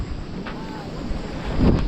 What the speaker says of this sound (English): We're getting a blast of wind now.